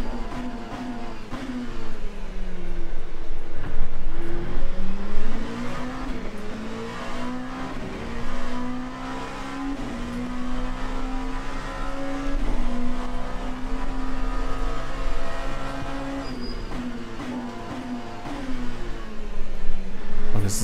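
Race car engines in Le Mans Ultimate at Sebring drone and rise as the cars speed past, a loud, sustained whine shifting in pitch with brief surges of revving and no talking.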